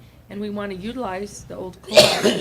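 A sneeze bursts out loudly at the end of a school district board of trustees meeting, right after someone speaking into the microphone.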